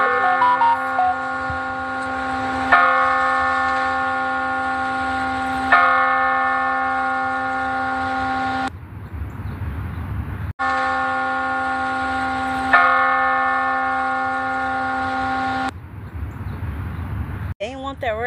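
Church bells ring in long sustained peals, two separate rounds each fading out and breaking off, loud and fairly close with a rich ringing tone over a faint low background.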